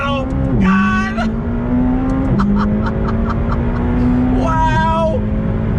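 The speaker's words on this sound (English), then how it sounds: "We're in the 2019 McLaren 570S on throttle." A 2019 McLaren 570S Spider sports car accelerating hard on throttle, heard from inside with a loud rising engine note, quick gear shifts and repeated climbs in pitch, with excited voices over it.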